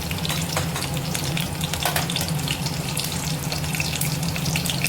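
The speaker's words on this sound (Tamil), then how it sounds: "பச்சை மிளகாய் ஒரு 2 பல் பூண்டை கட் பண்ணி வச்சுருக்கேன், அதை சேர்த்துக்கலாம்." Chopped green chili and garlic frying in hot oil, a steady close sizzle with crackling spits and soft stirring, continuous at moderate level throughout.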